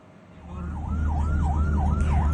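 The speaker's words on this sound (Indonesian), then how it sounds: "Mobil tersebut tak mau berpindah jalur meski terdengar suara sirine dari ambulans." An Indonesian Red Cross ambulance wails with a fast, rising and falling siren on a road in Salatiga, Central Java. It is close and loud over steady traffic rumble.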